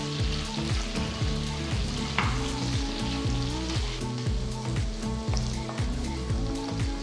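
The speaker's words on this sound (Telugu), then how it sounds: "నేను పొడవగా తరిగిన రెండు ఉల్లిపాయలు వేసి ఒక నిమిషం పాటు వేయిస్తున్నాను" Two long-sliced onions frying in oil in a kadai: steady sizzle throughout with a crackling wash, plus occasional scraping stirs against the pan. No talking.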